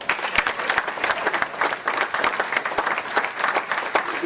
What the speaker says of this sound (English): How about a round of applause for the best AD in the country?